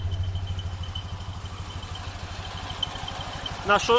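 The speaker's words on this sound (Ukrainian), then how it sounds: "Ну, зараз заведу, ви чуєте. Це заводиться на газові, що ви знали." A homemade 4x4 mini tractor's gas-fuelled engine idles with a steady, low rhythmic chugging throughout, with a brief clatter near the end and no talking over it.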